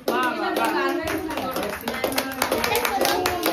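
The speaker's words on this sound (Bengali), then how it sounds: "হাততালি হাততালি হাততালি হাততালি" People clap steadily at a mother's birthday celebration, a dense run of sharp claps lasting throughout, with voices, including a child's, talking over it.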